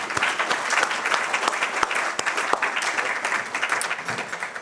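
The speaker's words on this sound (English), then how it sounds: "So please join me in giving him a round of applause." A symposium audience breaks into sustained applause, a full, close crowd of clapping hands with sharp individual claps popping out of the dense wash, staying loud and even throughout.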